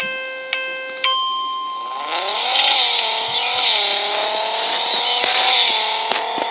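Race car engines from the Racing Rivals video game: a start-line chime of short beeps, then engine revs climbing and holding a loud, bright whine, pitch shifting as gears change, with no talk.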